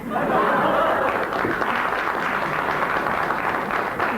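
Studio audience on a BBC radio comedy panel show applauds steadily and loudly for about four seconds, a dense sustained roar of clapping with a little laughter mixed in.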